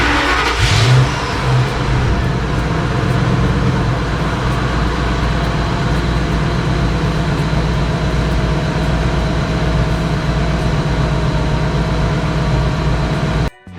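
A Ford F250 pickup truck engine runs loud and close, revving at first then holding a steady rumbling idle for about thirteen seconds before cutting off abruptly.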